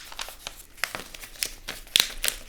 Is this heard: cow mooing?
no